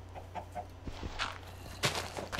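Chicken clucking in the video game Minecraft: a few soft, short clucks and bird calls over a low steady hum, with light footstep-like taps, fairly faint and without talk.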